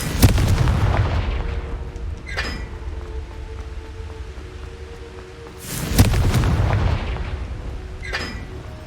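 Confringo fire spell blasts in the Hogwarts Legacy video game: two heavy booming explosions, one at the start and another about six seconds later, each followed by a brief sharp crack, with a low rumble and ambience between them.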